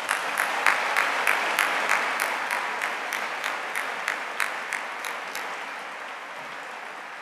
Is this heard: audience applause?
yes